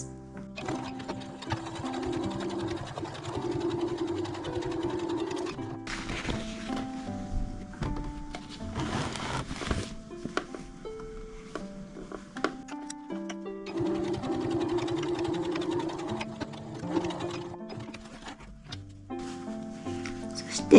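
A sewing machine stitches a seam on a zipper pouch in several bursts of rapid mechanical chatter, with short pauses and handling clicks between runs.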